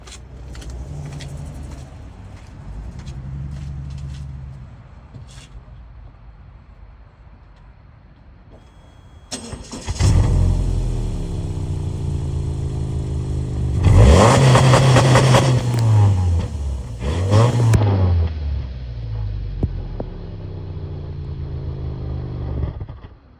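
Exhaust note of a 2023 Subaru Forester Premium, heard close up: a steady idle rumble that swells into a louder engine with two strong revs rising and falling before settling back to a loud idle.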